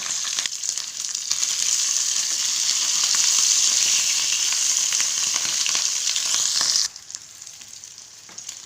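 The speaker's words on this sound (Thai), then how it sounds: "น้ำมันเยอะๆ แล้วก็ใส่ลงไป จะได้กรอบนอกนุ่มในก็ได้นะคะ ทอดให้เขากับกรอบกันนิดหนึ่งนะคะ" Food deep-frying in plenty of hot oil for crispness, a loud dense hissing sizzle that holds steady for several seconds and then drops sharply to a quieter bubbling; no voices.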